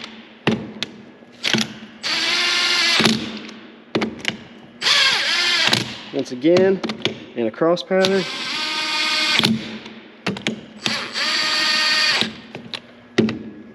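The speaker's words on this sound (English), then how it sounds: "So we'll just take the 1/2 inch impact, run them down till they touch." A 1/2-inch impact wrench runs down bolts during a locker install on a 2021+ Kawasaki Mule Pro, whirring in about six loud, close bursts of one to two seconds, with someone talking between them.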